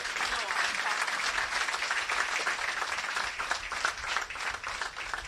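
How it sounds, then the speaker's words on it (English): A lecture-hall audience at a law school's inaugural freedom lecture gives the lecturer a dense, sustained round of applause, steady and loud throughout with no pause. "he deserves another round of applause"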